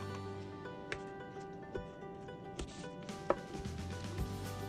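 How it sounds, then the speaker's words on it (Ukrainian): A knife chops chum salmon into cubes on a cutting board in several sharp, scattered strikes, quiet and close, with background music underneath. "Треба порізати кету на кубики."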